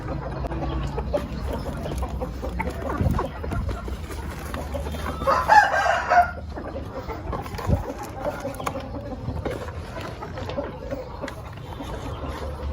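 Free-range village chickens cluck busily while being fed, with a rooster crowing partway through; the flock sounds close and continuous, with scattered background noise and possible faint voices.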